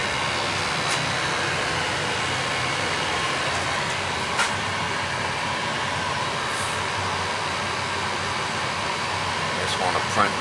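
A replacement L.P. gas furnace runs with a steady, even roar and airflow hiss, loud and constant throughout, with a few faint clicks and no talking.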